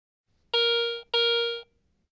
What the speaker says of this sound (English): Non-ferrous targets with high conductivity, such as larger silver coins, produce a bell tone signal